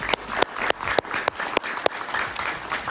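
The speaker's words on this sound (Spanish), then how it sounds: "Un aplauso para él" A studio audience on a Spanish-language talk show gives a short burst of applause, uneven claps popping out of a dense patter close by.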